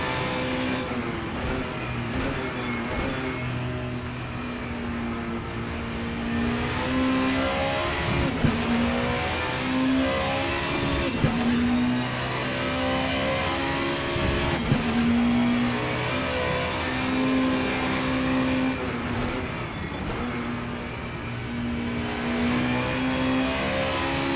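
A super touring car engine in the Assetto Corsa racing game at Donington revs hard and continuously, rising and dropping through gear changes with a loud, close, buzzy whine.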